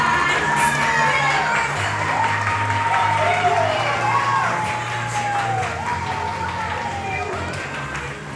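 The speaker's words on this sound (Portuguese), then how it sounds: "Vamos aplaudir mais uma vez?" Applause and cheering from a crowd at a Brazilian fifteenth-birthday celebration, steady and loud throughout, with shouts and whoops above it and children's voices mixed in.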